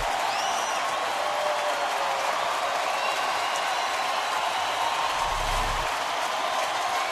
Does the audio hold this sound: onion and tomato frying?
no